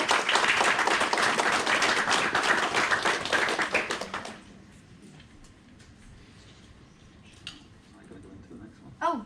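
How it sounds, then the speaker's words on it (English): Audience at a lecture applauds after a professor's talk, a loud sustained burst of clapping that stops abruptly midway, leaving quiet room noise and a few stray sounds. "So I'll take that applause, that's fine."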